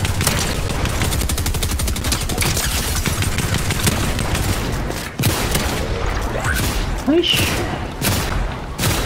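Rapid, loud gunfire crackles almost without pause through the first half of a Fortnite match, then thins into scattered shots and thuds, with a player's voice talking over it.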